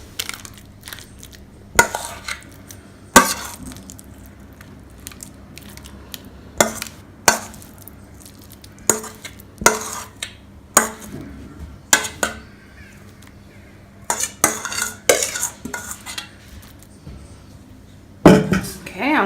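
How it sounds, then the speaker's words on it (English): Chicken liver loaf mixture goes into a pan, heard as a series of close, irregular scraping and clattering spoon-on-pan knocks with quiet gaps between. "I'm gonna put the mixture into my pan."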